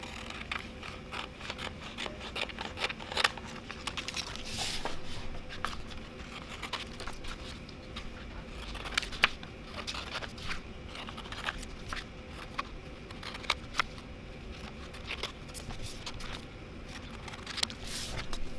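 Printed sticker sheets are cut down into sheets of ten, with repeated crisp snips and paper rustling in irregular bursts, close and fairly quiet, with no talking.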